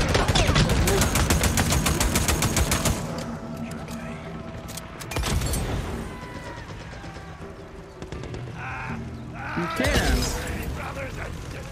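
Gunfire in Days Gone, a long burst of rapid automatic shots at first, followed by scattered louder bangs and mechanical clatter within busy game sound, with a voice talking over it at moments.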